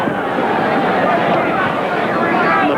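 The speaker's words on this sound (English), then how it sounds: "Brought some noise from the crowd." Boxing arena crowd roaring after a right hand lands in the ring, a broad, steady murmur of many voices filling the hall at moderate loudness.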